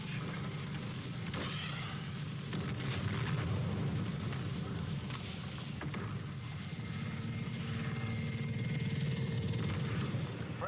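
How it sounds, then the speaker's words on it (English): A support helicopter in Call of Duty: Modern Warfare multiplayer thrums steadily overhead, a loud, continuous low rotor drone that holds for the whole stretch, mixed with distant battle noise and no talk. "Friendly support helo inbound."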